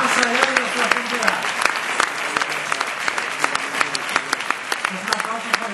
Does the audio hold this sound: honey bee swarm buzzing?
no